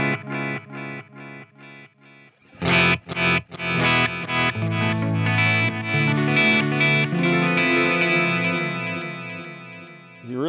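Electric guitar run through a Walrus Audio Mako D1 delay pedal with the attack softened like a slow-gear swell: a few short plucked notes, then strummed chords that bloom and hang in a long, washy, echoing tail, played alone.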